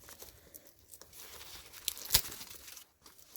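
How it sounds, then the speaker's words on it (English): Close, soft crinkling and rustling of packaging being pulled open from a leather bag chain, with a couple of sharp tearing snaps near the middle, otherwise quiet. "And let me just unpack the chain"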